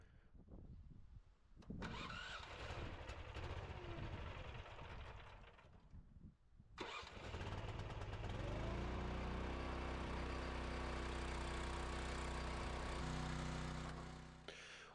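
A Rugged Made log splitter's small engine cranks with a few rough pulls and bursts, then catches and settles into a loud, steady idle that holds to the end before easing off slightly.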